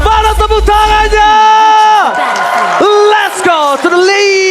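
A big esports crowd at Apple Arena during an MPL Indonesia Mobile Legends match whoops and yells in rising, sustained cheers, loud and close, with bursts of shouting over the roar.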